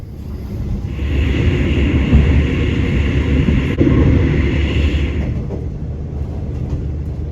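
Steady low rumble and hum inside a moving train carriage in southern Thailand, continuous and fairly loud, with a faint high whine and no voices.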